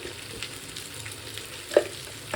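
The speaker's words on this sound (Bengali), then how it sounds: "এবার ভাজা হয়ে গেছে আলু আর পটলটা" Potatoes and pointed gourd frying in a pan give a steady low sizzle with light stirring scrapes and one brief clack, quiet and close, with no talking.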